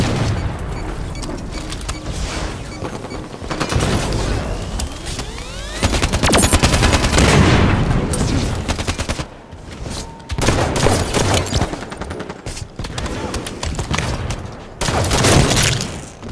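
Sniper rifle fire and other gunfire in a Halo 5 Slayer match on the map The Rig, loud sharp shots and bursts mixed with booms and game effects across the whole stretch.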